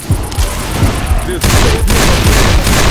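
Rapid gunfire from Left 4 Dead 2 crackles in dense, overlapping bursts throughout, loud and near, with a sharp pause before a second stretch of sustained shooting.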